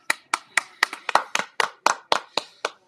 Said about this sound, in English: give him an applause for watching this video.